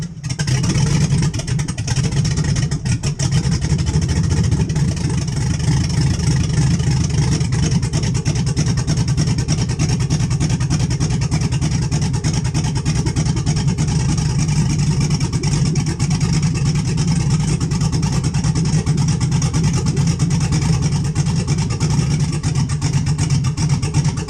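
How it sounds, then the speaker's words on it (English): A bagged 1951 GMC truck with a 4.8 LS engine is driven into a garage, its engine giving a loud, steady rumbling drone that stays constant throughout. "I have brought the truck back into the garage."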